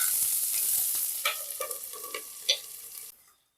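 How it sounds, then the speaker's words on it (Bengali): Chopped spring onions frying in a pan, a bright hiss with a few distinct stirring scrapes and clicks, close by, before the sound cuts off abruptly. "আমি একটু ঢাকা দিয়ে দিয়ে ভাজবো, তাড়াতাড়ি তাতে নরম হয়ে যাবে"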